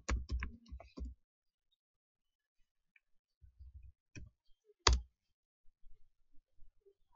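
A computer keyboard being typed on at close range, a short quick burst of key clicks and then several scattered single taps in near silence.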